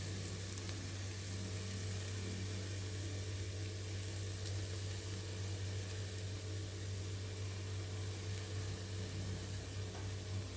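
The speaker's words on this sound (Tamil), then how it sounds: "இந்த மஞ்சள்தூளை எண்ணெயில் கொஞ்சம் வணங்கிக்கணும் பச்சை வாசனை போகிறதுக்காக." Turmeric powder fries in oil in a pan with a soft, steady sizzle that holds evenly throughout, alone and without talk over a low background hum.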